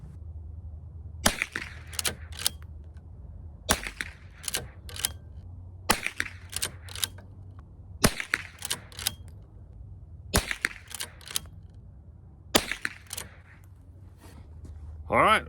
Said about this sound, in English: My first 3 shots will be with the Remington ammo, and then the next 3 will be with the Winchester